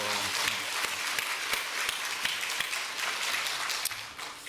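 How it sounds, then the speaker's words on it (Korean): A church congregation applauds its choir at a Christmas service, a dense burst of many hands clapping at close range that tapers slightly near the end. "우리 찬양대 너무 잘해요. 박수 한번 해드려요"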